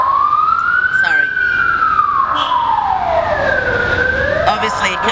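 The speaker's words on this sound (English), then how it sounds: "You can hear the ambulance sirens all the time." An ambulance siren wails loudly along a street in Antalya, Turkey, rising and falling in long sweeping tones over steady traffic rumble, with a few faint voices mixed in.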